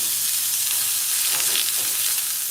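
Olive oil sizzles and crackles in a hot pan readied for searing, a steady, fairly quiet frying hiss with no talking over it.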